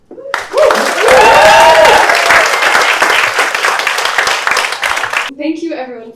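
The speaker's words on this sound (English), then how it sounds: "give them a big round of applause" An audience claps through a round of applause at a live literary conversation for the book Brat by Gabriel Smith. The clapping is dense and loud and sustained for about five seconds, then cuts off before a voice begins speaking.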